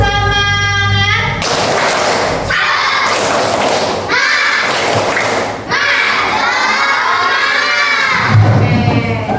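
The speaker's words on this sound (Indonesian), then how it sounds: "Sebelum berdoa, kita tepuk semangat terlebih dahulu." A classroom of schoolchildren loudly shouting a rhythmic clapping chant in several bursts of voices and claps, with a teacher's voice leading at the start.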